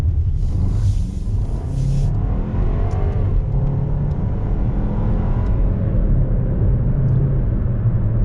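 A 2019 VW Beetle Turbo engine roars steadily as it accelerates hard in sport mode, with a deep rumbling exhaust and rising mechanical whine throughout, heard close from inside.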